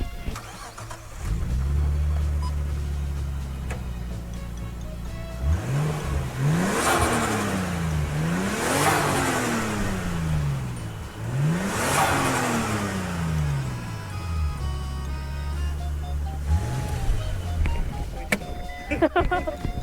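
A used car's engine is revved while parked, the exhaust note climbing and falling in several distinct rising blips with steady idle between them, close and loud, with people talking nearby.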